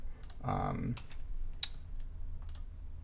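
A computer keyboard and mouse click while an image is being edited, with soft taps and sharp clicks spread irregularly over a low background hum, close and fairly quiet, and a brief murmured voice partway through.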